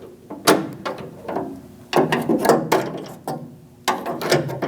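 Plastic clips and a door rod are worked loose inside the rearward passenger door of a Chevrolet Express van, giving a run of sharp clicks, snaps and rattling knocks in uneven bursts, close up with no voices.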